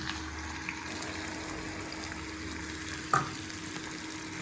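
Onions fry in a hot pan for a cheesy egg curry, a steady low sizzle with a single brief clatter from stirring, close and moderately quiet, with no voices.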